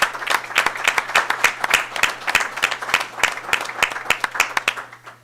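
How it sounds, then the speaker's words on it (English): A meeting audience at a school budget hearing gives the art department faculty and students a round of applause, with sparse, distinct claps in an uneven rhythm from a modest crowd that tails off toward the end. "giving both the faculty of the art department and the students that came tonight a round of applause"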